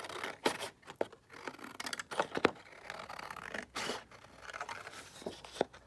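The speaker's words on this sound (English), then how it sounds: "I'm just going to cut around and cut all of those out" Paper pocket bases for a junk journal being cut out with scissors: a series of quiet, close snips and papery rustles, with short sharp cuts scattered irregularly between brief pauses.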